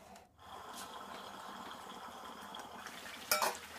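A lid set down on a cooking pan holding pointed gourd in a thin pumpkin seed paste with water: one sharp metallic clack near the end, following a low steady kitchen hum. No one speaks.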